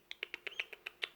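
Young chicks at a home with rescue hens give a rapid run of about nine high, thin peeps, evenly spaced and close by, with no talk over them.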